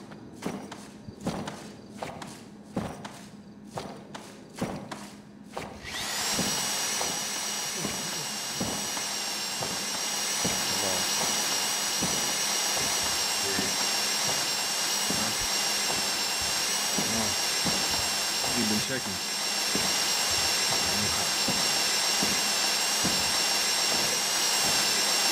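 A drill running during a bank robbery in a roleplay video game: several sharp rhythmic knocks, then a steady, loud whining motor drone that holds continuously to the end.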